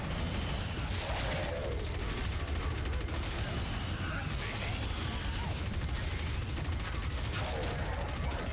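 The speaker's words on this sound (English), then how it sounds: "And that is just absolutely chaos with the Flak 2 launcher. And there's so many of these mines flying around." Chaotic game combat in the Unreal Tournament ChaosUT mod, with Flak launcher fire and exploding mines in dense, overlapping bursts of blasts and crashes, loud and continuous, while a player talks over the action.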